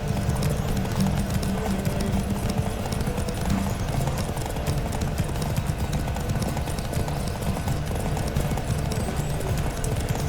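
Steady rhythmic hoofbeats of a galloping horse in The Witcher 3 during a race, continuous and fairly close, with a faint background hum and no talking.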